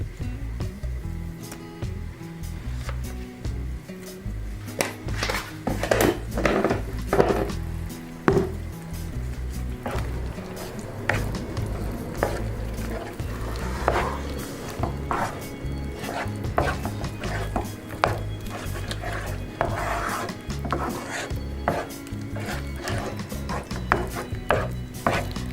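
Bombay Karachi halva with ghee is stirred in a pan on the stove: a spoon scrapes and knocks steadily against the metal while the thick mixture squishes, and nobody speaks.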